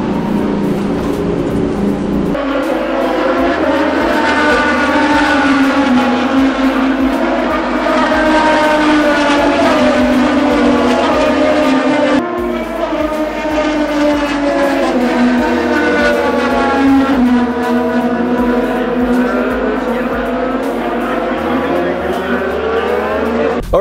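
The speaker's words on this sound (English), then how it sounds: "Drivers, start your engines." IndyCar race car engines firing up and running at a race, a loud, dense high-pitched whine with rising and falling revs from several cars, continuous and near, with a voice briefly over it.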